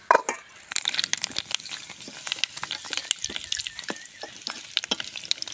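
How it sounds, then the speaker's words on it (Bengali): Potato chips frying in a shallow layer of oil at home, a steady crackling sizzle with scattered pops and bubbling throughout, close and fairly quiet, no talking. "আমাদের বাসায় চিপস ভাজা অল্প তেলেই ভাজি করা হচ্ছে"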